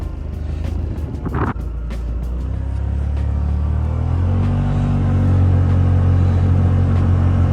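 A Yamaha Wolverine X4 side-by-side drives through deep snow, its engine producing a loud, steady rumble that builds as it accelerates, with a brief knock near the start.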